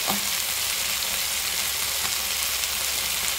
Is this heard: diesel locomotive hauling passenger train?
no